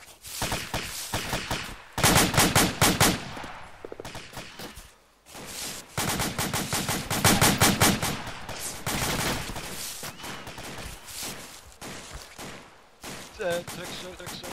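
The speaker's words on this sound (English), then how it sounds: "Enemy fire!" Several bursts of automatic gunfire and rattling volleys from enemy weapons in a co-op military video game, loud and clustered with short pauses, while players talk over the shooting.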